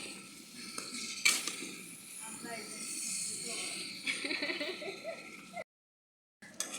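Chopped potato, eggplant and pumpkin go into a pot of fried spices for hostel-style bhuna khichuri, bringing clattering utensil scrapes and a soft sizzle, with a sharp clank near the start and a brief silent gap near the end.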